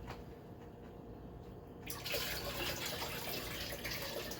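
Water is poured slowly into a betta fish tank, a steady splashing trickle that swells louder and brighter about halfway through and keeps running close by.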